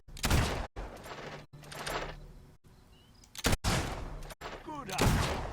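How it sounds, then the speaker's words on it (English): Gunshots at a shooting range in the video game Fable II: several loud, close blasts separated by brief silences, each trailing off with some noise. "Start shooting"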